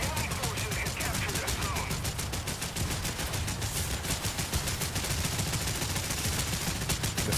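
Naval guns on warships firing at an enemy ship in the War Thunder video game, a dense, continuous rattle of rapid gunfire that stays loud and steady throughout, with no pauses.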